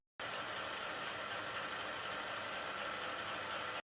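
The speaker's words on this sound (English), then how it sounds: "connect the motor to the battery module, turn on the power, and check if the gears run smoothly" A small motor in a brick-built steampunk marble run turns its gears, giving a steady, even mechanical whirring buzz that starts and stops abruptly, close and continuous with no talk.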